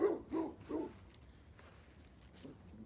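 A dog barks three times in quick succession, moderately close on an outdoor walk by a riparian area, followed by quieter rustling and faint footsteps.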